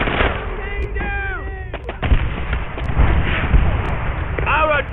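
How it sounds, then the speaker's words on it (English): Artillery fire in Call of Duty: World at War, heavy booming thuds landing at irregular intervals over a rumbling battle background, with shouting voices and a few whistling shell sounds mixed in. "Artillery will force them into submission."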